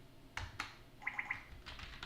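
A few keystrokes on a computer keyboard while typing a Linux terminal command: a couple of sharp isolated taps followed by a short quick run of light clicks, close and fairly quiet, with no talking.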